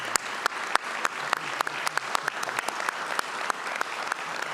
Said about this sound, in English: Everyone, please join me in a round of applause to thank J.C.